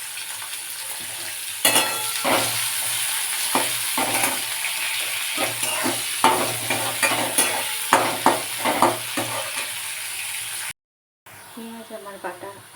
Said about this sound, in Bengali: পেঁয়াজগুলো খুব লাল লাল করে ভেজে নেব, যেমন খানিকটা বেরেস্তা ভাজে ঠিক সেই রকম ভেজে নেব।